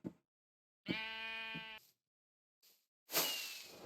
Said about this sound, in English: One of my sheep escaped while I wasn't paying attention.